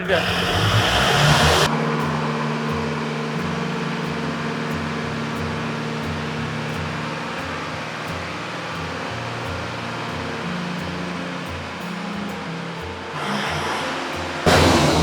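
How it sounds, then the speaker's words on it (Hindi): A Mahindra MU45 tractor engine idles at a steady diesel throb, with louder bursts at the start and end as it is revved up and down; someone talks over it. "जब मैं ट्रैक्टर के रेस बढ़ाता हूँ या कम ज़्यादा रेस करता हूँ"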